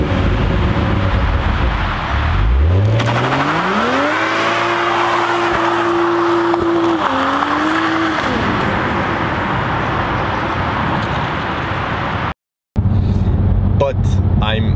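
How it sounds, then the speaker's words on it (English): A 2020 Toyota GR Supra with a large raw exhaust revs hard, the engine note climbing steeply, holding high and dropping back, loud and close, followed by a brief cut and some lighter mechanical noise. "There's a proper exhaust in there you can put your fist in."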